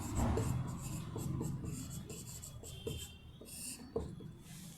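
Chalk or marker writing on a classroom board in a Class VII Sanskrit lesson, a steady scratchy rubbing with light taps, close and fairly quiet, with no talk over it.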